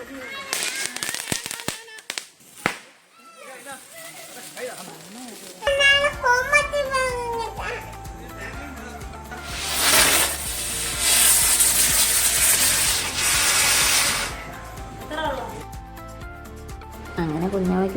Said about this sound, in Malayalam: കുറച്ച് സ്പെഷ്യൽ കമ്പിത്തിരിയും കുറച്ചും കൂടെ പടക്കമൊക്കെ മേടിച്ച് നമ്മൾ കത്തിച്ച് കാണിച്ചു കൊടുത്തു